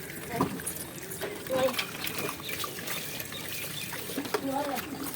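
Water trickles and splashes in uneven bursts as it is poured over a dog's head during a rooftop bath, while people talk nearby, with a few bird chirps in the background.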